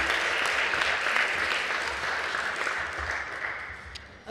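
An audience at the San Antonio Sports Hall of Fame class announcement gives a sustained round of applause, loud and dense at first, then gradually tapering off.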